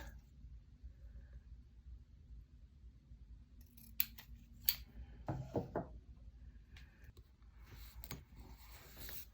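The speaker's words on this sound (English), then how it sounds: "So I'm just going to cut like just a little bit here." Scissors cutting floral paper to make planner tabs, a few close, quiet snips and crisp paper rustles in short clusters against near silence and a low hum.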